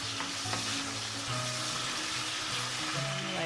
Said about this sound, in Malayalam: എല്ലാം കൂടെ ചേർത്ത് നമുക്കൊന്ന് വഴറ്റാം.